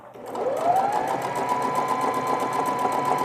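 A sewing machine runs steadily while stitching a newborn baby swaddle wrap, making a close, even, rapid mechanical whir that speeds up at the start and then holds a constant pace.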